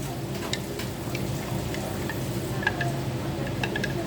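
Cornstarch goes into a pot of lomi noodle soup and gets stirred, with a faint continuous bubbling sizzle and light scattered clicks of a utensil against the pot.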